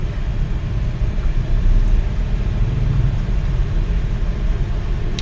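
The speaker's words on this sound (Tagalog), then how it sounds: "Traffic." City road traffic in the Philippines near St. Luke's Global hospital, a loud, steady rumble of car and bus engines idling and rolling close by, with no speech over it.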